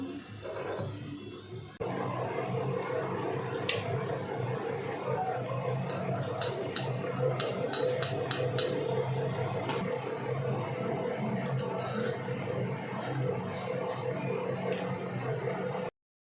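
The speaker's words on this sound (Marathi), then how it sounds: "मी आता बाकीच्या सर्व पुऱ्या तळते" Puris, fried bread, sizzle steadily in hot oil, a dense crackling hiss with scattered sharp pops that starts abruptly after a quieter moment and continues evenly throughout.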